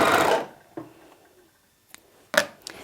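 An overlocker serger sews off the corner of a piece of fabric: a short mechanical whir at the start, then quiet, then a couple of light clicks and taps near the close.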